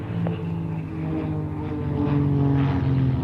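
A propeller aerobatic display aircraft pulling up into a vertical manoeuvre, its engine droning loudly with a steady buzzing tone that rises in pitch and grows louder as it climbs.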